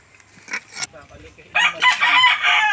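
Chickens cluck in short bursts, then a rooster lets out a loud, drawn-out crow close by, in an outdoor farm setting.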